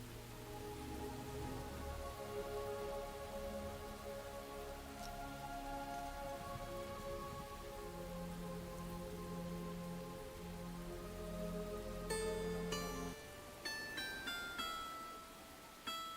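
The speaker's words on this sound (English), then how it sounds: "It's so dark. And it's raining." Rainfall in the Enshrouded video game, a steady hiss of rain beneath sustained musical tones, softly mixed, with bright chiming notes entering toward the end.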